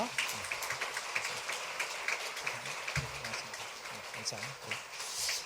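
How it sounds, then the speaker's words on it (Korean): A Korean church congregation in Johannesburg claps warmly during a Sunday service to honour a retirement. Steady, crackling applause fills the room while a voice keeps speaking over it. "뜨거운 박수로 격려하겠습니다"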